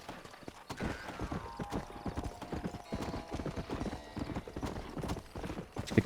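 Horse hooves clip-clopping in the video game Red Dead Redemption, a steady rapid rhythm of hoofbeats at a trot, close and continuous, with a faint whinny mixed in.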